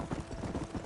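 Horse hooves clip-clop in a steady, close rhythm as a mount rides along in the Western game Red Dead Redemption, filling the short moment with continuous trotting beats.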